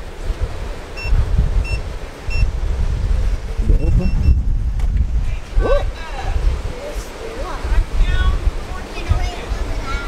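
Strong wind gusting across a Florida beach at Miramar Beach in Destin, loud buffeting rumble against the microphone with surf noise mixed in, running throughout while people talk nearby.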